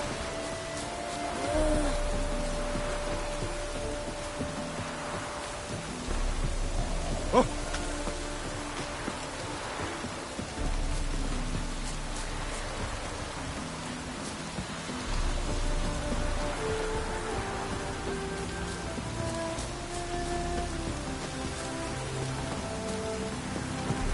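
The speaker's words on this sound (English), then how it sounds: "Looked like it would rain, and here it is." Steady rain patters across the scene in The Witcher 3 video game, a constant soft hiss with scattered drops, no talking over it.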